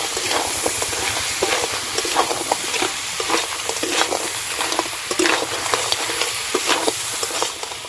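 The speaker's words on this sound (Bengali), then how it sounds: "কাঁকড়াগুলো মশলার সঙ্গে ভালো করে নাড়াচাড়া করে নেব।" Fried crabs being stirred through thick masala in a pan for a Sundarban crab curry, a steady sizzle broken by repeated scraping and clattering strokes of the spoon, close and fairly loud with no talking.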